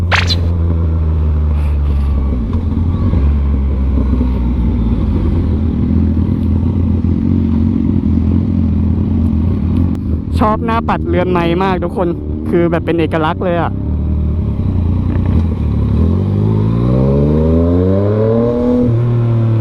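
A Yamaha MT-09 motorcycle with traction control off drones loudly under a rider's talk, the engine note surging and dropping through quick gear shifts, then climbing in a rising rev near the end.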